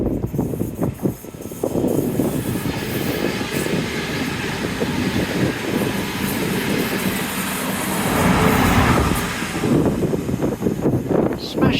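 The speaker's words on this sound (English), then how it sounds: "here comes a train already" A train rolls past near a path at Dawlish, a sustained loud rumble with rhythmic rail clatter that swells and fades over several seconds, heard alone without talk.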